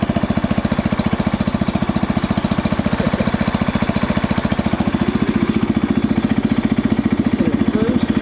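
Engine of a 1968 Wheel Horse Commando 8 garden tractor running loud and close in a tight indoor space, a fast steady single-cylinder chug that holds an even pulse throughout with no talking.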